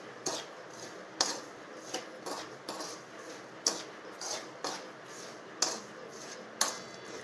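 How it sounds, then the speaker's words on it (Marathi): Salted peanuts being stirred and dry-roasted in a pan, a spoon scraping with sharp metallic clinks at a steady rhythm about once per second, close and fairly quiet with no talk. "हे असंच हलवत राहायचं आहे, चांगलं असं परतून घ्यायचं आहे।"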